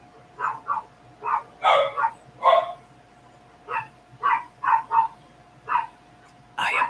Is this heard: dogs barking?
yes